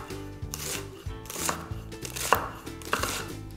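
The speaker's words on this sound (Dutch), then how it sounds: "Ik ga die ook fijn snijden." Knife finely chopping garlic and white onion on a board, a fast run of sharp, close, repeated blade taps with brief pauses between bursts.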